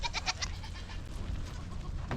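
Goats bleat in a big pasture: a burst of several quick cries at the start, then a steady murmur of the herd and another bleat near the end, at moderate distance with no voices.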